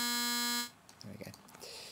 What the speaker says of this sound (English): So that's just using that sine wave on the first oscillator.